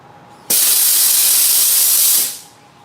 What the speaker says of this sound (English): those are some of the joys of having an automatic with a compressor. Blow off valve.